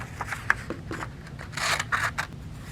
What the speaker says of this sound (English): So I'll be using my scissors again, and I'll be cutting out the pot.